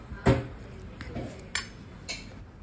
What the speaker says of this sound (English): I'm continue to mix till I get a smooth dough